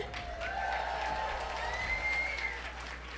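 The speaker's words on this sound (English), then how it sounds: "Applause for Marilyn." Audience at a Jewish organisation's evening gathering applauds for a founder, a soft, steady clapping crowd with a voice speaking and a faint tonal sound over it.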